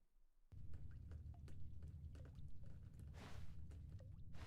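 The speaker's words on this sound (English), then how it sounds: "Is there like water leaking?" Water leaking and dripping in The Stanley Parable video game: a low steady rumble with scattered soft drips and splashes over several seconds, fairly faint, with a brief pouring wash near the middle.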